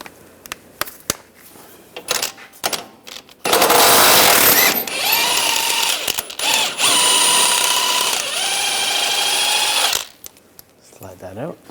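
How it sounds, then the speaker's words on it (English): Power tool driving an E20 socket to remove a lower control arm bolt on a 2013-2016 Dodge Dart, a loud steady whirring burst lasting several seconds with pitch dips, preceded by clanks and handling noises. "Using an E20 socket, take this bolt out."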